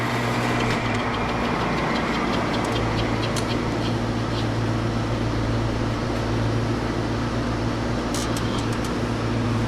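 A Copper King or Strip-Tec Model 1000 copper wire stripper machine with a clutch running, a loud steady motorized drone and hum with light rattling ticks, no talk.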